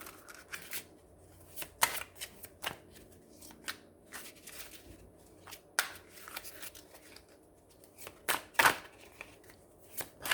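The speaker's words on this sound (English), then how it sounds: "Final shuffle." Bursts of tarot card shuffling, crisp riffles and flicks in irregular clusters, close and fairly quiet against a hushed room.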